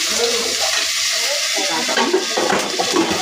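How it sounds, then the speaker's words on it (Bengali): Dry red chilies and cumin seeds sizzle in hot oil, a steady loud crackling fry with a little stirring as the tempering cooks. "শুকনো লঙ্কা, জিরে ফোড়ন দিয়ে"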